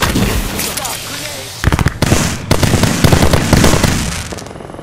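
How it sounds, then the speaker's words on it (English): A grenade going off in the battle royale shooter Apex Legends, heard as a cluster of sharp bursts and crackling blasts mid-clip over busy game noise, with a voice talking across it. "Look out. Grenade."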